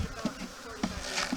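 Honeybees being shaken from a box into a hive, a close, steady buzzing swarm with a few brief louder thumps and surges in the drone.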